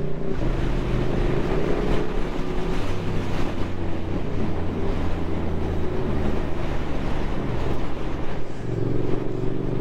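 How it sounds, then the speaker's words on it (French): Suzuki GSX-8S A2 motorcycle engine accelerating after a clutch pull and a short throttle blip, a loud continuous engine drone with steady low harmonics, heard close with wind noise throughout and no talk. "je fais l'embrayage, le petit coup de gaz"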